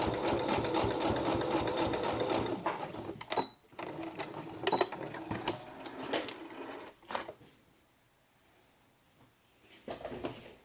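A sewing machine stitches a page of a felt quiet book, running in a fast steady whir. It stops and starts with small mechanical clicks, then falls quiet before a short final burst.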